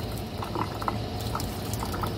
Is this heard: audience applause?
no